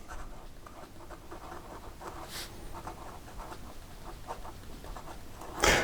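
Medium-nib PenTeo Bonita Magma Dragon fountain pen written in reverse, giving a fine, close scratching of nib on paper in short repeated strokes, quiet and steady, with a brief louder scrape near the end.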